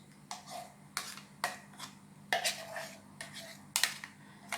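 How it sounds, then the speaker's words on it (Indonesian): Ground spice paste goes into melted Blue Band margarine in a pan, with a series of sharp clinks and scrapes of a utensil against the cookware. The hits come every half second or so and are moderately loud. "Oke, ini Blue Band-nya sudah mencair. saya masukkan bumbu halus."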